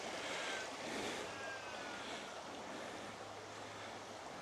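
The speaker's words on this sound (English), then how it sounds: "look at that little waterfall" A small waterfall in a creek at a secluded campsite splashes in a faint, steady wash of water, continuous throughout with light wind noise.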